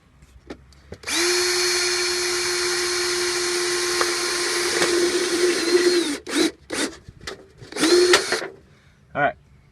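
A power drill bores a hole through a metal chicken killing cone just below a rivet, a loud close whine running about five seconds, then several short bursts and stops as the bit finishes.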